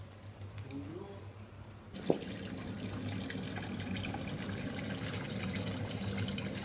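A drinking-water fountain in a small village (Mosset) runs with a steady, close splashing rush that starts abruptly after a sharp click, preceded by quieter outdoor ambience with a faint voice.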